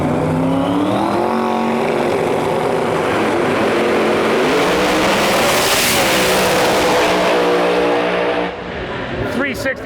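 Pro Mod drag race cars, among them 69 Camaros, roar down the strip in right-lane qualifying at about 205 mph, a loud sustained engine howl rising in pitch, with a commentator talking over it before it fades.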